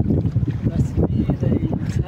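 A boat out on Phewa Lake makes a close, pulsing low rumble of water and hull, with wind buffeting the microphone and voices mixed in.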